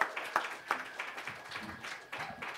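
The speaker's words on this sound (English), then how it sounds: "Another round of applause for Henry, everyone." Audience applause at an open mic night, scattered and fairly faint hand claps from a small crowd, with a few sharper close claps and a voice mixed in.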